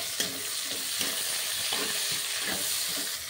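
Tomato and slit green chillies sizzle in hot oil in a pan while being stirred, a steady hiss with soft, rhythmic scraping pulses from the spoon.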